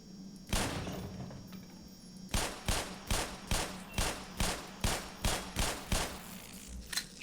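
Gunfire in the game Black Mesa aimed at a turret's legs: one shot, then a steady run of about ten evenly spaced loud bursts over a constant low mechanical hum.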